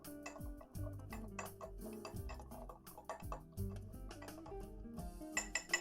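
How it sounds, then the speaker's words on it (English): Muddling ingredients into bourbon in a glass, with close clinks, taps and scraping knocks of the muddler against the glass in an uneven rhythm, quiet with no talk. "We muddle. We stir."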